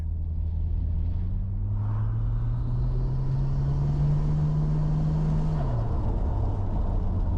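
A Nissan Skyline R34 sedan with a turbo pulls hard in third gear, the engine note climbing steadily and loud for several seconds before dropping off sharply as the throttle lifts, with a whistling turbo rising above it.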